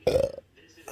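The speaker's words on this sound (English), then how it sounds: "The burps come from up in here area." A single loud, close burp with a low throaty rumble lasts about a third of a second, then fades into quiet breathing; it comes from a person with chronic, intractable hiccups.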